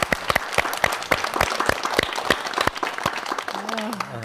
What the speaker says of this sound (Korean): 네, 박수로.